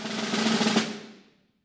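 Snare drum roll of four 32nd notes flowing into a 16th-note triplet, played as a brief, dense buzzing burst that swells slightly and then rings out, close and alone.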